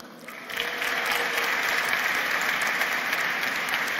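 Applause for prize winners at a Fordham Law School commencement ceremony, starting softly, then swelling after half a second into a steady wash of distant clapping across a large crowd.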